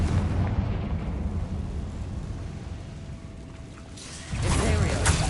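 A blasting spell from the video game Hogwarts Legacy wrecks a barricade, giving a heavy rumbling roar that eases off, then bursts out loud again near the end.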